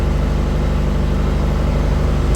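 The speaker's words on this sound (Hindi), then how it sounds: "बिल्कुल एक आवाज़ में इंजन चल रहा है" A 30 kVA Tata Cummins super silent diesel generator runs steadily under full three-phase load, a close, even low engine drone with a fine rhythmic pulse and no breaks, alone without talk.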